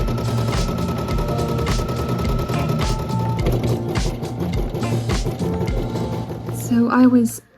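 Embroidery machine stitching a design, a rapid mechanical ratcheting clatter with rhythmic needle thumps that runs steadily, then stops with a short whirring trim sound at the end.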